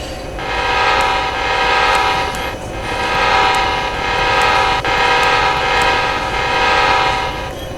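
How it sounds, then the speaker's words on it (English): Loud, sustained multi-tone train horn from a locomotive in Train and Rail Yard Simulator, sounding in several long blasts with brief dips between them, steady and close with no talking. "I love the horn on these."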